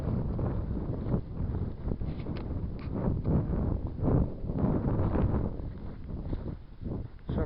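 Steady outdoor wind buffeting the microphone on Scottish hills, a continuous low rumble with gusty swells and no talking.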